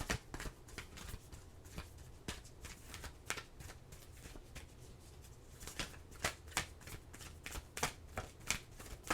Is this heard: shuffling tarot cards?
yes